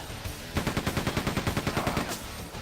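Gunner enemies in the Quake II video game fire rapid machine-gun bursts, a steady stuttering rattle of about twenty evenly spaced shots that starts after a short pause and runs to the end, loud and close with no talking.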